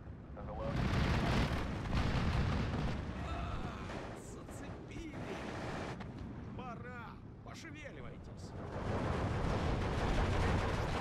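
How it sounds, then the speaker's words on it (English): In the Steel Division 2 war game, IL-2 attack planes drop napalm and bombs. Heavy rolling blasts and roaring fire rumble on and off, layered with crackling battle noise. "So let's bring in some IL-2s. Napalm that to death maybe. A bomb on it"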